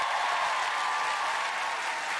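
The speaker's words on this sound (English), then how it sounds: "keep that applause going for John Jarrett" A studio audience at a televised singing game show keeps up a dense, even wash of applause as actor John Jarrett is called forward, steady and unbroken throughout.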